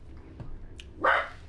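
A dog barks once, a short sharp bark at moderate distance, with quiet room ambience before it.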